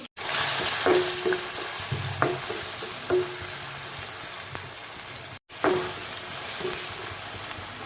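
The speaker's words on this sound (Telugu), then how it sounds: "ఉల్లిపాయ టమాటా కూడా ఇందులో వేసుకుంటే బాగా ఫ్రై అయిపోతుంది" Onion and tomato sizzle steadily in hot oil in a pan for an eggplant fry, a continuous close frying hiss broken by occasional stirring scrapes, with a brief cut near the start and another at the five-second mark.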